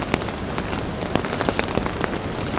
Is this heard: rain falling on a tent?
yes